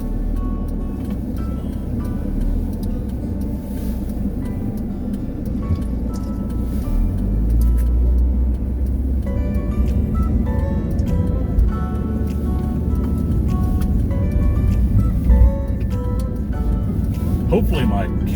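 Steady low road and engine rumble from inside a car driving to work in the morning, continuous and fairly loud, with a person talking over it most of the way.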